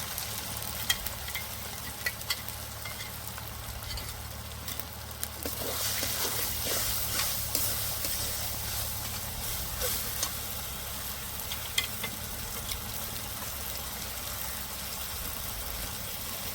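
Cumin paste and dried chili paste frying with ginger and garlic in a pan for a desi chicken curry, a low continuous sizzle with intermittent stirring scrapes and clinks, fairly quiet and close.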